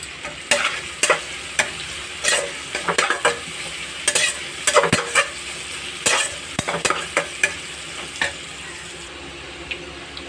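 Sliced onions with salt sizzle in hot oil for a dum biryani while a spoon stirs them, giving a steady fry under repeated scraping clicks and clatters in irregular bursts at close range.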